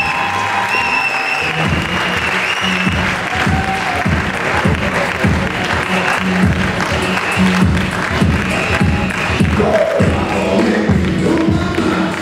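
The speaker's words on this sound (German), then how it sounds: "Applaus für unsere drei Sieger." Sustained audience applause for the three overall winners at a men's physique bodybuilding championship, dense steady clapping from a large crowd lasting throughout, loud and continuous with no speech over it.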